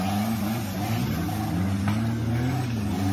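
A steady, low off-road race car engine drone runs continuously at moderate volume, humming without pauses or changes in pace, at an off-road race in Chiang Mai.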